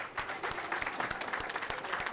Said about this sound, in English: and as we clap for them.